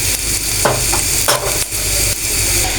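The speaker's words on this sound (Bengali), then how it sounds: "এখন পেঁয়াজ আমি ভেজে নিচ্ছি।" Onions frying in hot oil in a pan for a chicken curry, a close, loud continuous sizzle with a few scraping stirs of a spoon, and no talking.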